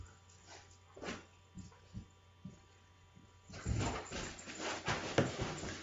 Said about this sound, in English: Now you get to listen to the dulcet tones of my dog going apeshit in the background.